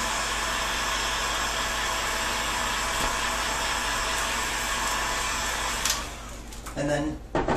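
A heater blows a loud, steady rush of hot air onto a Scythian-style horse-bow being heated for bending, running continuously before it cuts off and leaves a few brief handling clatters.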